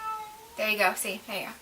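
A house cat named Bandit, kept indoors, cries and meows in short drawn-out calls close to the microphone, mixed in with a person talking over it.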